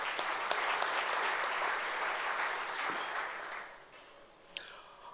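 Sustained audience applause fills a tourism conference hall, dense and steady for about four seconds before thinning out, with a few scattered claps trailing at the end.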